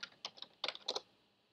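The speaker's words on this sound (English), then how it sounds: "we can go back to the command prompt and type Android" A short burst of typing on a computer keyboard at a Windows command prompt, a handful of quick, crisp key clicks in close succession, faint and near.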